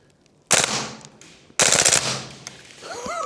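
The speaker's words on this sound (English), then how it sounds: "Let's do a burst of auto," Two loud, rapid full-auto bursts from a VFC G36C gas blowback airsoft rifle, each a fast rattling string of shots up close, separated by a brief pause.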